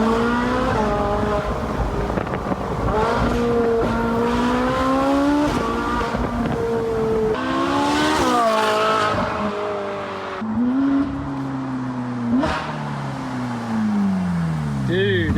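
A Ferrari 458 Spider convertible, rebuilt after a wreck, is driven with its top down. The engine revs loud and close with rising and falling pitch through gear changes, and a brief tire squeal comes partway through.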